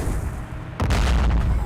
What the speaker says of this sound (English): Ooh, sounds like a fucking cannon